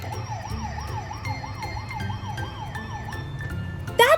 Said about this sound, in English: That's the sound of the siren.